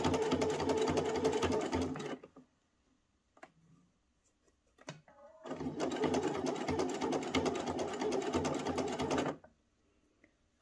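A sewing machine stitches a fabric neckband in contrasting thread, two long runs of steady, rapid, close mechanical whirring separated by a quiet pause with faint handling noises.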